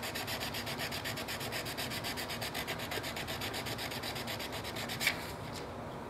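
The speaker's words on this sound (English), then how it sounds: "So I'm going to sand this just a little bit before I put it through." Steady back-and-forth sanding on a wooden part for a mouse trap car, a close, even rhythmic rasp running for several seconds before a brief sharper scrape near the end.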